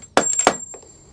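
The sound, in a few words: metal washer dropping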